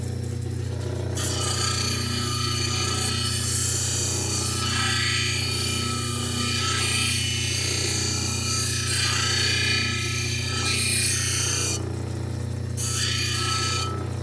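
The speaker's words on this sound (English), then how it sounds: "I'm gonna start cutting some of this top coat down, and we'll keep refining the shape as we go." Fordite top coat being filed and cut down to shape, steady rasping strokes repeating over a constant low hum, close and moderately loud.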